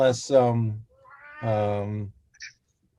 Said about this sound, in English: your kitty's hungry